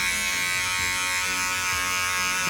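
Electric hair clippers buzz steadily and close up while cutting hair below the earlobe during a home haircut, a continuous motor drone with no talking.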